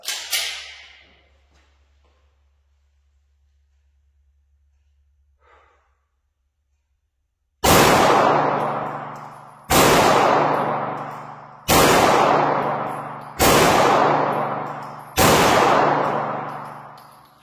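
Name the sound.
gunshots fired from a pistol with a 15 round magazine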